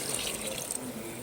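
Water poured into a pot of mutton curry, a brief steady splashing pour heard close and quiet, with no voices.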